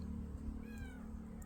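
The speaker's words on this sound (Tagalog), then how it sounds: "pusa yan" A short, quiet meow rises briefly over a steady low hum of background noise.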